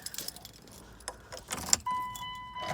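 A bunch of car keys jangles briefly and lightly near a 1999 Dodge Durango during power steering pump work, then a steady electronic chime tone follows, with no talk.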